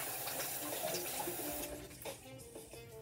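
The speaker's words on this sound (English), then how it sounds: "And just rinse my hands here." Hands rinsed under a running kitchen tap while making homemade chicken burgers, a steady close splash of water that thins out toward the end, with no talking.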